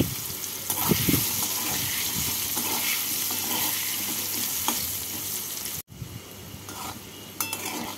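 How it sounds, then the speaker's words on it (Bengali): Cubed potatoes and taro frying in hot oil seasoned with salt and turmeric, a steady close crackling sizzle with occasional stirring clinks, broken by a brief drop near the end. "নুন আর হলুদ দিয়ে তেলটাকে গরম করে নিয়ে এর মধ্যে আলু আর গাঁটি কচুগুলোকে ভেজে তুলে নেব"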